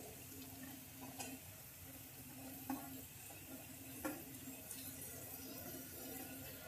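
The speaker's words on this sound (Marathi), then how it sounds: "नंतर आता मी सगळे व्हेजिटेबल्स टाकून घेणार आहे." Vegetables are stir-fried in a kadhai for Schezwan fried rice, giving a continuous low sizzle with occasional sharp clicks and scrapes of the stirring utensil against the pan.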